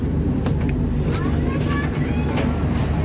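Steady low rumble and rattle inside an AC carriage of the Coromandel Express, a continuous running-train drone with faint higher squeaks, close and even throughout.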